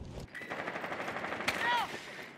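Gunfire in Rainbow Six Siege, a dense burst of rapid shots running under talk, with a bright sweeping ring partway through.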